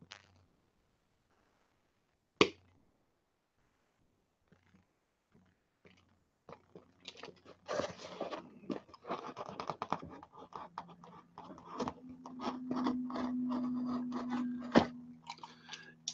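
A dull box cutter knife scrapes and drags through material, starting with a sharp snap and a few faint clicks, then a long run of close, gritty scratching and crunching strokes that grows louder toward the end.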